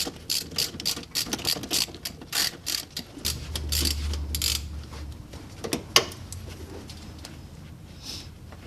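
A ratchet with a 10mm socket loosens the air conditioning line fitting on a Pontiac Fiero with a 3800 engine swap, giving rapid bursts of close metallic clicking strokes that pause midway, then sporadic lighter clicks.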